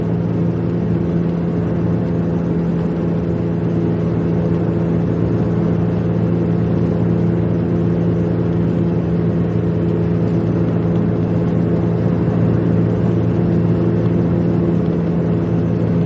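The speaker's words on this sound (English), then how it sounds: "the weird humming noise is coming from my exhaust" A car exhaust with a hole in it gives off a steady, loud, droning hum with a low, even tone that holds unchanged throughout, with no voices over it.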